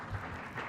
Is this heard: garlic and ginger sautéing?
no